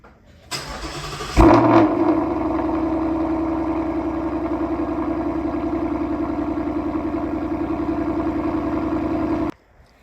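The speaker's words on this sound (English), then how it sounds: "it's probably the best exhaust and loudest exhaust you can get for this car" A 2022 Mustang GT V8 with aftermarket exhaust cranks briefly, then fires with a loud bark and settles into a deep, rumbling idle before cutting off abruptly.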